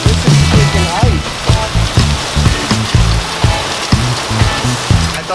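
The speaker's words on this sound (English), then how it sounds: "it's just freaking hailing in Prague in the middle of June." Hail in a June storm in Prague rattles and splashes on outdoor surfaces in a dense, loud patter, with pulsing bursts and some voices in the background.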